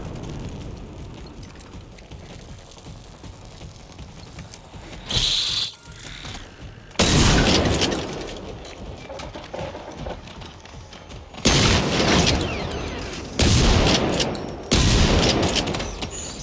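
Bursts of rapid gunfire crack out in several loud volleys in the video game Generation Zero, separated by quieter stretches of low background noise and game ambience.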